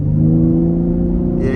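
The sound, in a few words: Ford F-150 Raptor exhaust at half throttle, quiet mode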